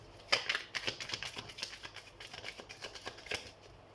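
Tarot cards shuffled by hand, a dense run of soft papery flicks and riffles at close range, quiet and without speech.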